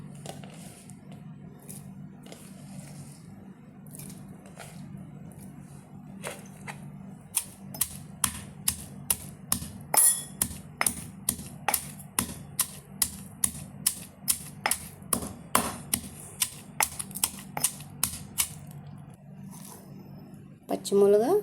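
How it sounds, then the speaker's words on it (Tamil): Green chillies pounded for gongura chutney, a run of sharp, evenly spaced knocks from roughly the middle onward, close and fairly loud, with quieter handling noise before them. "பச்சை மிளகா இடிச்சாச்சு"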